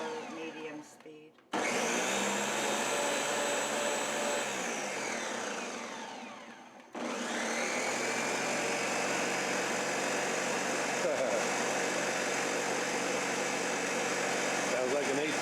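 A blender purées roasted vegetable and chicken broth soup in two loud, continuous whirring runs, the first slowing and stopping, the second starting after a brief pause and running steadily, with voices talking over it.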